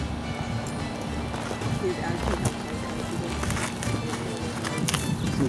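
A horse moves around an arena at a ranch clinic, its hoofbeats faint and rhythmic beneath steady background noise.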